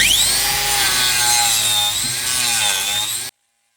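A grinder fitted with a rasp disc trims a cow's badly overgrown hoof, giving a loud, continuous high-pitched whirring rasp held steady for about three seconds before stopping abruptly.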